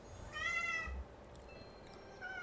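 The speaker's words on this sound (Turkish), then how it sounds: "Kedim de geldi." A cat meows in a clear, drawn-out call near the start, followed by a fainter second meow toward the end, over a quiet indoor background.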